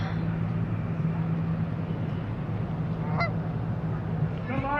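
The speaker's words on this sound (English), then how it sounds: "Canada geese." Canada geese honk a few times near a bridge, their calls rising over steady background rumble and murmur late in the stretch.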